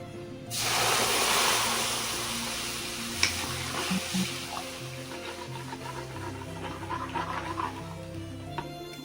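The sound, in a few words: stirring milk into white sauce in a pan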